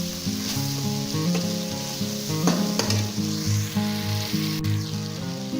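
Tomatoes and spices cooking in a pan for a mixed vegetable sabzi of carrot, peas and potato, giving a loud steady sizzle broken by repeated scraping stirs of a spoon against the pan.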